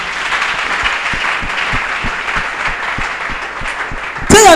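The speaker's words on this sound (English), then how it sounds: "Clap your hand for Jesus." A church congregation claps hands together, a dense steady applause with some rhythmic beats underneath, before a voice briefly cuts in at the end.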